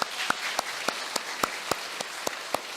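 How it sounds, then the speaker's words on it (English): Sparse, distinct hand claps ring out at a steady pace at an elementary school awards event, about ten sharp claps spaced evenly, like a small group applauding. "give one more round of applause to our teachers."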